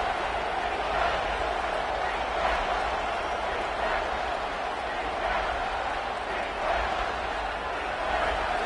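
A large football stadium crowd roars steadily for the defense during a game against Texas, a dense, distant wall of cheering that swells gently throughout, with an announcer talking over it.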